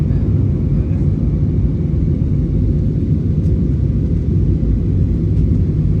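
A passenger jet takes off at night on a flight bound for Hanoi, heard from inside the cabin as a loud, steady low engine roar and rumble that stays constant throughout.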